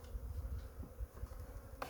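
Honeybees crawl over an open hive frame, giving a soft, close buzzing hum with small wavering pulses and one brief louder buzz near the end.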